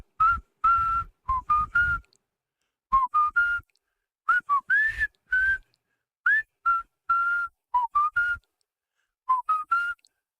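Someone whistles a melody in short bursts, clear notes broken by pauses, close and fairly loud.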